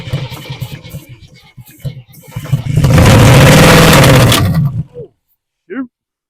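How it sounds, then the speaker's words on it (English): The carbureted engine of a 1979 Jeep CJ7 cranks unevenly, then catches and roars loudly for a couple of seconds before cutting out abruptly, with a brief sharp sound after it dies; someone speaks during the cranking. "I love these old carbureted motors, the way they sound turning over."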